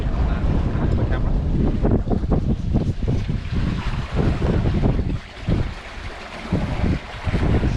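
A sailboat running slightly off the wind at about 6.2 knots, with continuous rushing water and heavy gusting wind buffeting the microphone throughout, loud and close with no talk.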